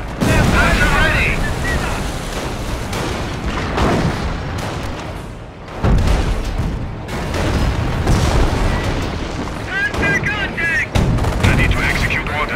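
Dense battlefield gunfire and booming explosions from the video game Company of Heroes: Opposing Fronts, loud and continuous, with shouted soldier voice lines mixed in.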